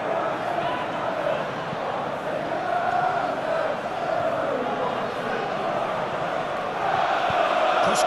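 A stadium crowd in a PES 21 football match between Arsenal and Wolves keeps up a steady, dense roar and murmur for several seconds, with a commentator's voice faintly present beneath it.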